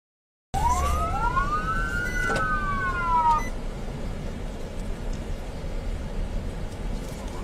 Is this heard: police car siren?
yes